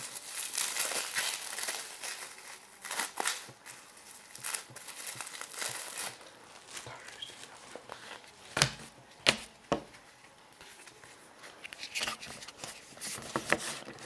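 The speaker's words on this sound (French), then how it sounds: "je suis en train d'ouvrir le deck" Plastic packaging of a 2009 Yu-Gi-Oh starter deck crinkles and tears as it is opened, a steady close-up rustle broken by sharper crackling bursts over about fourteen seconds.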